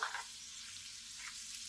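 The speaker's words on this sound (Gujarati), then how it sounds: "એકદમ સરસ વઘાર તૈયાર થઈ ગયો છે" A tempering of spices and Kashmiri red chilli sizzles in hot oil for spiced puffed rice, a faint, steady crackling hiss with a slightly sharper burst at the start.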